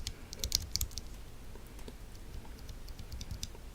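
Mechanical keyboard switches, KBDFans T1 housing with a halo stem, pressed in quick clicky bursts, a short cluster of taps early on and scattered softer presses after, close and fairly quiet with no talking.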